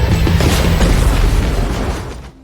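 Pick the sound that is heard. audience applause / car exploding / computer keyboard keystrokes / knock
car exploding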